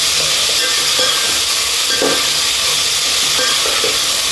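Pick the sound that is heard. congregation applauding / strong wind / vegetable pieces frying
vegetable pieces frying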